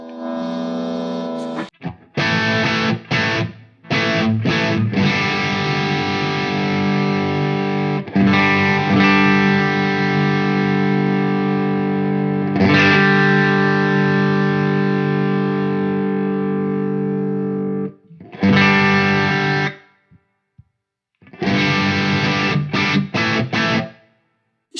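An electric guitar played through a modified Marshall Bluesbreaker pedal gives heavily compressed, clipped distortion: loud sustained chords ring out in long stretches, broken by short silences and quick restarted strums near the end.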